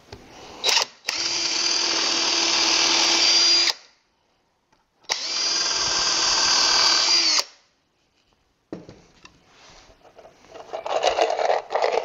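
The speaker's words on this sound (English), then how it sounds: "Put in a couple of screws, just kind of hold it in place while I was putting the rest of them in." Power drill driving screws into the ledge of a wooden Moxon vise in a workshop: two sustained whirring bursts of about three seconds each, close and loud, followed by quieter handling and scraping noises.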